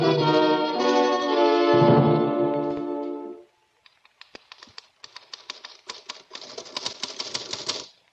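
In an old time radio drama, a sustained tone fades out and a typewriter starts clacking, quick irregular bursts of sharp key strikes that speed up into steady rapid typing before stopping.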